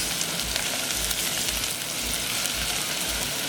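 Red onions, ginger and garlic fry in a pan with a loud, continuous, close-up sizzle and crackle, stirred throughout with no voices.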